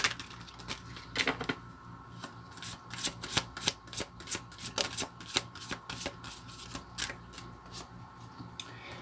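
Oracle reading cards being shuffled by hand, a rapid run of crisp riffling snaps and soft slides in irregular bursts, close and quiet, with no talking.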